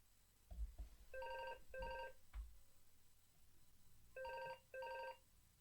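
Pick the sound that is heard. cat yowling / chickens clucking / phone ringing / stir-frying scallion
phone ringing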